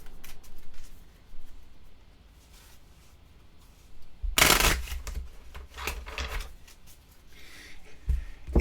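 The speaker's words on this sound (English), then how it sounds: "we are going to shuffle this back up" A deck of Sentinels of the Multiverse game cards being shuffled: quiet rustling at first, then a sharp burst of riffling cards and several softer shuffles and taps, close and alone.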